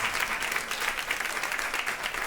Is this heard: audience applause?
yes